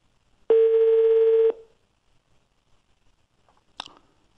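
A single long outgoing telephone ring tone sounds for about a second, clear and loud, followed by silence and a brief faint click or rustle.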